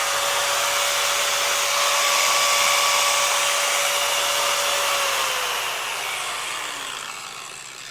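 SPTA 3 inch mini polisher running at speed level 6, a loud, steady, close high-pitched whine with a constant tone that drops away as the tool spins down at the end.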